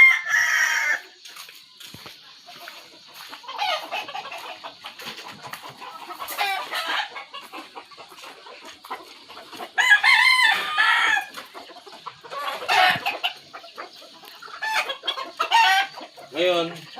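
Roosters crow repeatedly, several calls overlapping near and far, while hens cluck softly in between in a small backyard gamefowl yard; no talking.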